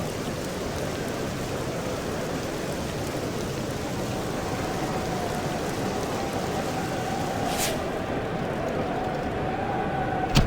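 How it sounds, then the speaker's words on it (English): Heavy rain pours down during a rain delay in the EA Sports Cricket 07 video game, a loud, constant broadband wash with a faint siren-like tone near the end. "The rain beginning to pour down."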